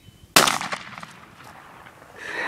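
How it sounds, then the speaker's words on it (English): A single sharp shotgun blast is fired at a pop can outdoors, with a loud crack followed by a brief decaying echo and quiet afterward. "Shoot the pop can when you're ready."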